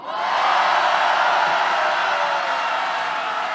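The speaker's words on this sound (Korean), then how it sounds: "도훈 선생님의 뜨거운 함성과 박수로 우리의 감격과 승리의 날을 앞당깁시다" A large crowd at a candlelight rally roars and applauds together, a loud, sustained wall of cheering that swells and holds steady throughout.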